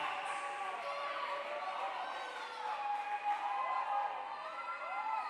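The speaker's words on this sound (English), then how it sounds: "But now the crowd is back into it" A college women's volleyball crowd cheers and calls out steadily in a gym, a moderately distant wash of voices swelling slightly midway as momentum builds.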